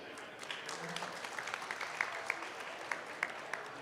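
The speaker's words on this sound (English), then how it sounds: "You can clap if you like, that's delightful, why not?" An audience at the Canadian Horse Racing Hall of Fame gala claps in scattered, fairly faint applause, with sharper individual claps popping out of a soft room murmur.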